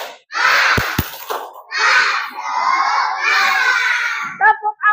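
Schoolchildren in an elementary classroom chant and clap the rhythmic tepuk semangat spirit cheer together, loud group shouting with a couple of sharp claps near the start and quick rhythmic claps at the end.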